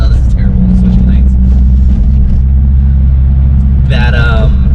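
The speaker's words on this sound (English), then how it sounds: "This is such a rough road. It's like rallycross." Car on a very rough road, a heavy constant low rumble and road roar from inside the cabin, with a person talking over it.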